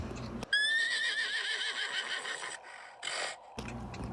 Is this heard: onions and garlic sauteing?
no